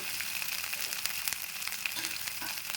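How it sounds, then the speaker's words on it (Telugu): Onion paste and ginger-garlic paste fry in a pan with a steady crackling sizzle and a few soft stirring scrapes, heard alone at moderate volume. "ఈ పెద్దఉల్లిపాయ పేస్ట్, అల్లం వెల్లిపాయ పేస్ట్ కూడా బాగా వేగింది."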